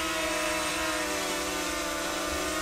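A DJI Mavic Mini drone hovers outdoors, its propellers giving a loud, steady, buzzing whine that stays constant throughout with no voices.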